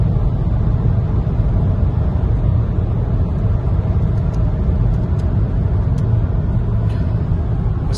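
Cabin of a VW Passat 2.0 TDI diesel with DSG gearbox cruising at 140 km/h around 2600 rpm, a steady low engine drone mixed with road and wind rumble, continuous and even throughout.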